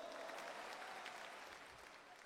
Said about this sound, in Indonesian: Sekali lagi tepuk tangan yang meriah untuk UNAN dulu.